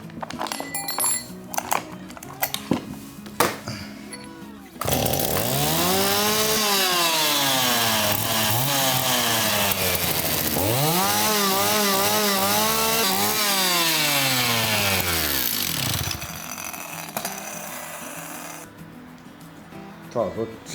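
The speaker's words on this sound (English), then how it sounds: "For narrow areas, I wanted to carve into it with a thin chainsaw bar" A chainsaw fitted with a thin bar carves into wood for a giant glass table, roaring loudly and close for about ten seconds with repeated revving swells, after scattered knocks and handling noises, then the engine idles down.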